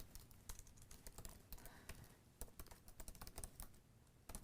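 Rapid, uneven keystrokes on a computer keyboard as a web address is typed, close and fairly quiet, with short bursts and pauses and no talking.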